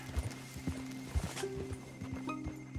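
Horse hooves during riding in the video game Red Dead Redemption 2, a soft, quiet clip-clop of steps under faint background ambience.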